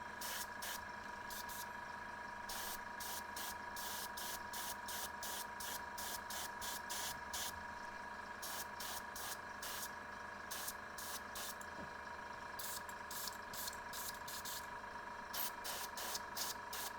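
An airbrush sprays paint onto a small model, hissing in short repeated bursts over a steady hum from the compressor, close and even in level.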